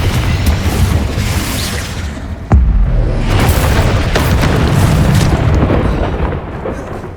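Spell explosions from the Hogwarts video game, with a Confringo blast thumping in amid a sustained roar of booming, crackling rumble; one sharp, heavy impact lands midway and the loud din continues around it.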